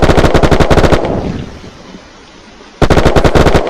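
Rapid automatic gunfire from a Western Front weapon in the video game Unturned, with two loud sustained bursts of evenly spaced shots separated by a decaying echo.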